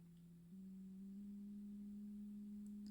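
A pure sine test tone holds steady near 200 Hz, then steps upward in small increments, a clean continuous hum with no other sounds.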